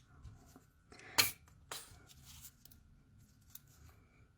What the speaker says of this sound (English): cut the bead